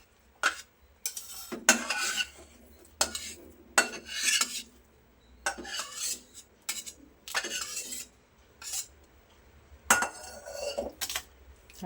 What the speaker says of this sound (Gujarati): તો હવે આપણે ઘીથી ગ્રીસ કરેલી પ્લેટમાં એને ઉમેરી લઈએ.